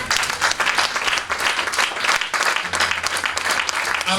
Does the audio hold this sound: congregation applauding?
yes